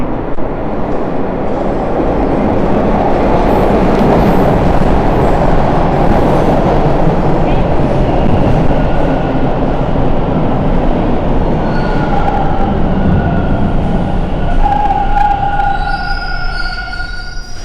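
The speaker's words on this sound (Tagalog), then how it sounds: "Here comes the train." A Toronto TTC Line 2 subway train pulls into the station with a loud, sustained rumble and roar that builds and holds, then brake and wheel squeals whine near the end. No one speaks.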